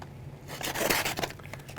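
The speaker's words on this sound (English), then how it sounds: "Ripping a little bit, but" Knife freshly sharpened on a natural whetstone slicing through paper from an old sticker: a close, brief tearing rasp followed by a few scraping strokes, heard alone without voices.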